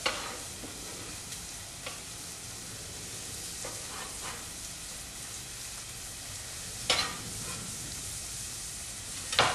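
Onions sweating in olive oil in a pan for risotto, a soft, even sizzle with a few sharp scraping stirs of a utensil, the loudest near the end.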